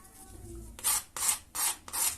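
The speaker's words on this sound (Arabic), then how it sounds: "سامعين القرمشه اهو" Four crisp crunches of baked homemade hawawshi, flatbread stuffed with meat, each a short rasping crackle in an even rhythm, close and clear with no talk.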